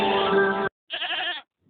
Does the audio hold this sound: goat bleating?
yes